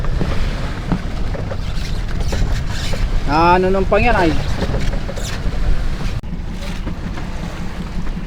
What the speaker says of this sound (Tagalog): Para malaking bangka naman yun, no?